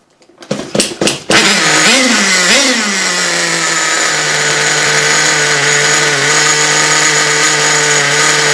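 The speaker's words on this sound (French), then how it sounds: "Puis démarrez votre moteur en faisant de brefs allers et retours avec la tirette du lanceur sans tirer la ficelle" Small nitro engine of a radio-controlled car sputters through a few quick pull-starts, then catches and settles into a loud, steady high-pitched buzz that holds close for the rest.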